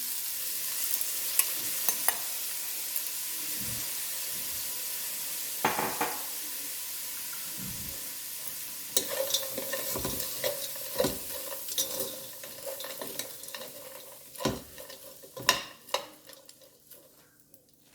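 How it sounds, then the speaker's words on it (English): Vegetables fry in oil in a pan that was used for shrimp, a low sizzle running under repeated clanks and scrapes of a utensil stirring against the pan, growing busier toward the end. "in this same pan that we cook our shrimp, we're going to cook our vegetables"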